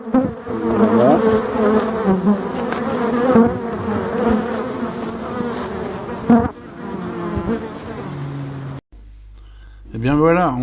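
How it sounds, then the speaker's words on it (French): Honeybees swarm the hive entrance, alarmed by an attacking hornet, in a dense, loud, close buzzing with shifting tones that drops out briefly near the end and then returns. "le frelon a déclenché une alerte générale sur la planche d'envol"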